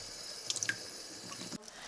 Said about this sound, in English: I have 13 ounces of green pigeon peas, gandules verdes, and I'm going to rinse it.